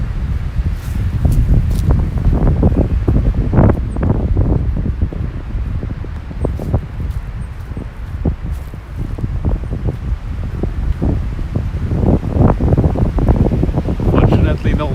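Strong wind gusts across an open hilltop in Tokyo on a sunny day, roaring steadily and buffeting the microphone, with rustling throughout.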